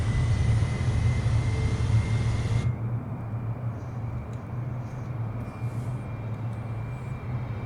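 A Boeing 777-200ER touches down and rolls out in Microsoft Flight Simulator, a steady loud engine and rumbling roar that drops slightly in pitch and level as the aircraft slows, with no talking.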